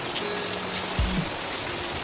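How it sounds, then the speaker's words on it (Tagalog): Very heavy rain pouring down in Dubai, a steady dense hiss of drops hitting surfaces near the microphone, with one low thump partway through and no talk. "Very strong rain."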